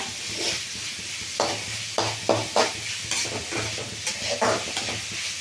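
Onions frying in a pan with a steady close sizzle, broken by several scraping stirs of a spatula against the metal.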